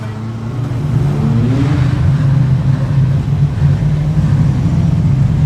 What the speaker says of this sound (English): Martin Hawson, the car facing the wrong way, but it's running.